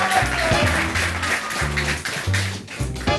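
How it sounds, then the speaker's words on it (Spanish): A TV studio audience applauds a guest named David, clapping in bursts alongside a thumping music beat. "Un aplauso para David"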